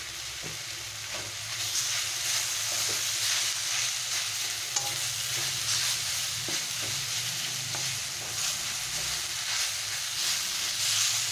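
Potatoes sizzle continuously in a hot pan for a long stretch, with frequent scraping and stirring strokes over the steady frying hiss.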